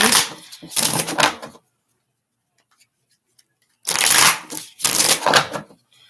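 Reading cards being shuffled by hand in two bursts of rapid riffling and snapping, close and crisp, with a silent pause between them.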